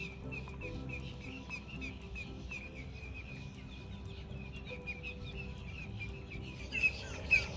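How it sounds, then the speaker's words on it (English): Many birds sing and chirp at once around the main pond of a nature preserve, a dense, continuous chorus of overlapping calls that grows a little louder toward the end. "it's just an absolute cacophony of bird song."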